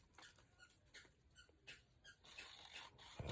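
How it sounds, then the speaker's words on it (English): A dog squeaks a squeaky toy indoors, giving a run of short, faint, high squeaks in quick irregular bursts with light pattering between them. "You guys hear my dog squeaking with her toy?"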